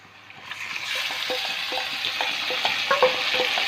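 Marinated chicken hits a pan of frying ginger and garlic and sizzles steadily, with louder crackles and spatters building over a few seconds while being stirred.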